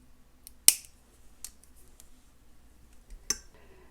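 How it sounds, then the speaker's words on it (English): Small sharp snips of scissors or cutters trimming excess beading wire while a necklace is being made, with two or three crisp close clicks spread apart over quiet room tone. "Snip off the excess beading wire."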